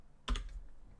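A computer keyboard being typed on: one short, close cluster of clicky keystrokes that fades quickly into quiet room tone.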